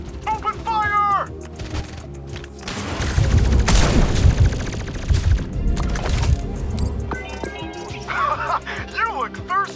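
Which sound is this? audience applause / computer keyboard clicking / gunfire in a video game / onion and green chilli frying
gunfire in a video game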